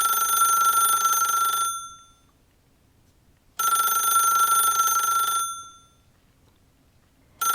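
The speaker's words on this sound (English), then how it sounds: "sitting in the middle of the playmat was the rotary phone. You saw it, and it started ringing again" A rotary telephone bell rings in two long bursts separated by a silent pause, loud and close, with a third ring just starting.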